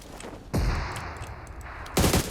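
Bursts of automatic gunfire in the PUBG Mobile shooter game, two loud, dense volleys with a short gap between them, close and sharp over quiet game ambience.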